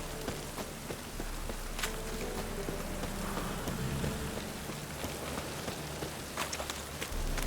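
Rain falling in the video game The Witcher 3: Wild Hunt, a steady hiss of drops on surfaces with occasional louder patters and a low constant rumble, alone without talk.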